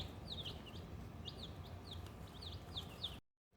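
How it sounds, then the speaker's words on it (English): Newly arrived baby chicks on a homestead peep in bursts of high, chirpy calls repeated over a steady low background hum, fairly faint, before the sound cuts off abruptly. "I got 25 little birdies."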